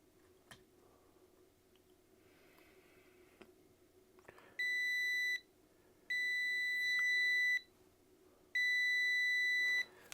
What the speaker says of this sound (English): So I'm just putting on the beep, you'll hear the beeps.